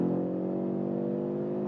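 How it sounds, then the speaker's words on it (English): An Audi RS3's five-cylinder engine holds a steady, loud droning hum with strong even harmonics, heard from inside the car in sport mode with no talk. "That 5-cylinder engine."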